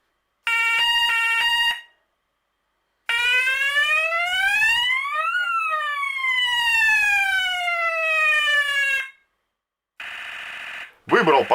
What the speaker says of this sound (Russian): Я еще попробовал подключить сирену от велосипеда.